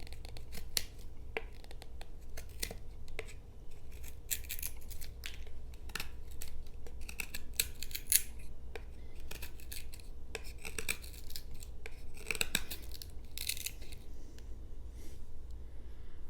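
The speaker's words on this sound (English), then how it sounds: "let's see what it's like if we need to take some wood shavings." A D2 steel folding pocket knife with a G10 handle shaves wood, a run of quick, light scraping strokes, close and soft, repeating unevenly over a low background hum.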